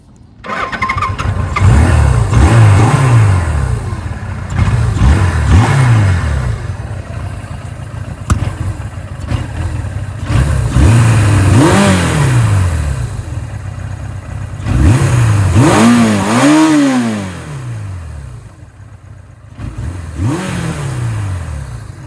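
Engine of a 1979 Suzuki GS750 motorcycle under carburetor troubleshooting, heard close and loud: repeated throttle blips rise and fall over a rough idle, then it bogs down and nearly stalls near the end. Nobody speaks.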